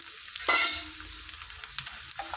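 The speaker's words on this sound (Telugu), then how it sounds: "ఆయిల్లో ఇట్లా రొయ్యలు కొద్దిసేపు ఫ్రై చేసుకుందాం" Prawns frying in hot oil, a loud close crackling sizzle that flares briefly as they are stirred, then settles into a steady hiss.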